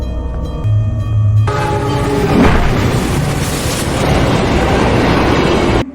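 A train rumbles loudly along the tracks, with a heavy continuous roar and rattling wheels after a brief quieter tonal opening.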